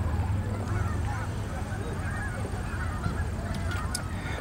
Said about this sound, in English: Yeah, those are all geese.